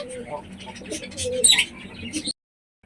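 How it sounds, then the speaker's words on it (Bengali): Pigeons coo in low, throaty calls as a pair chases before egg-laying, close and moderately loud over about two seconds, then the sound stops abruptly into silence. "দেখো আমি একটা পায়রা এনেছি"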